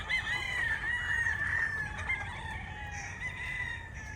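On a farm, a rooster crows clearly and close by while hens cluck softly in the background against a low outdoor hum.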